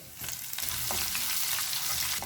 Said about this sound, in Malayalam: അപ്പം നമ്മുടെ ഇഞ്ചിയും പച്ചമുളകൊക്കെ ഒന്ന് മൂത്ത് വന്നിട്ടുണ്ട്.